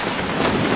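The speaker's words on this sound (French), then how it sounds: "Alors on a un bon vent, très bon vent, une bonne mer." Strong wind at sea aboard a sailboat cruising near Guadeloupe and Les Saintes in the Antilles, a steady broadband rush of wind buffeting the microphone with water noise, loud and continuous for a brief moment, no voices.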